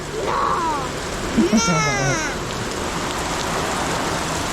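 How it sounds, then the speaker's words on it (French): Heavy torrential rain pours down in a steady, dense hiss throughout, close and loud, while a voice and a child's call briefly rise over it. "Et voilà, il pleut à torrent."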